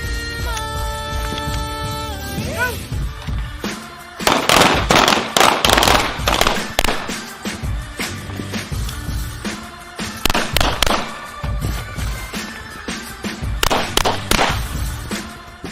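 Handgun shots at an outdoor shooting range, loud sharp reports fired in quick pairs and clusters with short pauses between strings, with no talking.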